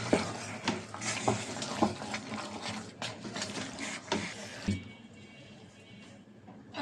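Duck meat hitting a pan of cooked-down spice paste, frying with a steady sizzle and repeated scraping stirs near the start, then settling into a quieter hiss.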